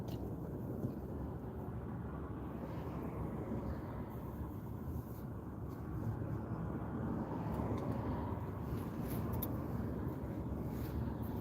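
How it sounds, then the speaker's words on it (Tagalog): Steady, continuous city street traffic in the Philippines, a broad low rumble of engines and passing vehicles holding a constant level throughout with no clear individual events. "Traffic."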